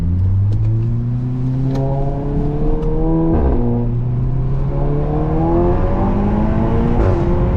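A VW Golf 7.5 R fitted with an Akrapovic exhaust pulls hard through repeated upshifts, loud engine notes climbing in pitch, dropping sharply at each shift with a pop, then climbing again.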